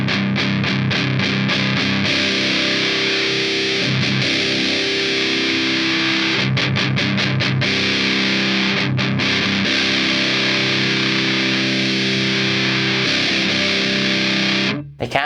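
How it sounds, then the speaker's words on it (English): An electric guitar plays through a ProCo Roadkrill distortion pedal turned up high, giving a thick, buzzing, sustained fuzzy tone with repeated strummed chords and brief choppy breaks, loud and unbroken throughout. "Let's crank the distortion a little more."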